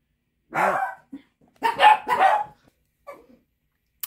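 Several dogs bark in short bursts at new neighbors, a yap near the start, then two louder clustered barks, a softer yip after a pause and a faint clipped bark at the very end.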